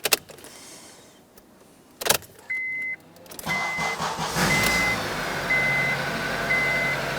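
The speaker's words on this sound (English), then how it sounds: "now we're going to try to start the vehicle" A 2002-2006 Honda CR-V after a fuel pump module replacement: a brief electric hum, then the engine cranks and catches, settling into a steady idle with intermittent electronic beeps. No one speaks.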